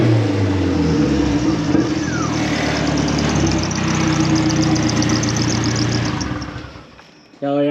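A low budget drift build car's engine runs at a rough, loud idle with steady mechanical rumble for several seconds before cutting out abruptly.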